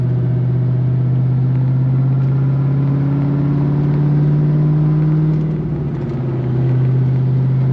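A Pontiac GTO engine drones steadily from inside the car as it pulls along, a loud, continuous low rumble with a slight rise in pitch and a brief dip near the end.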